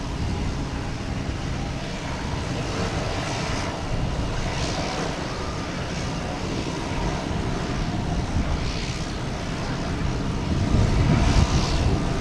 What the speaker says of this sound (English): I was thinking it was a pretty short takeoff roll.